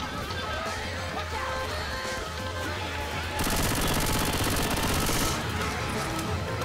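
Sustained automatic gunfire in the zombie shooter Left 4 Dead 2 on the Swamp Fever campaign, steady crackling shots that swell into a dense loud burst midway, with no voices heard.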